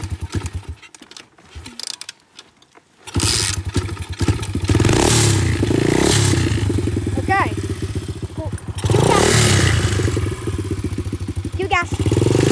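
A 125cc dirt bike engine starts after a quiet moment and revs loudly and close, rising and falling with throttle blips while voices talk over it.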